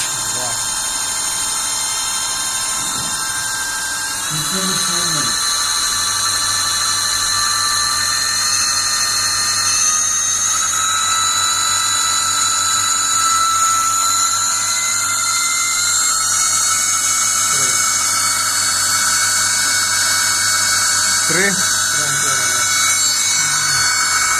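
A Turnigy Rotomax 50cc brushless electric model aircraft motor runs on a test stand with a loud, steady, high-pitched whine that shifts up in pitch early on and then holds for the whole stretch, while people speak briefly over it.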